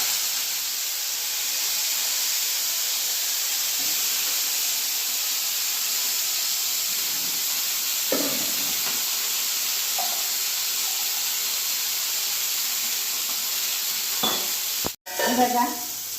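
Drumsticks frying in a mustard seed tempering give a steady, loud, close sizzle and hiss, broken by a few soft stirring scrapes and a sharp clatter near the end.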